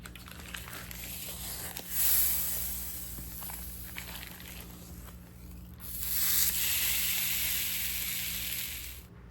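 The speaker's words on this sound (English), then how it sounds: "Now let's cook the coconut flour tortillas." Frozen coconut flour tortillas sizzle in a hot pan, a steady hiss that swells in two loud bursts as each one hits the heat and then settles into a softer crackle, with no talking.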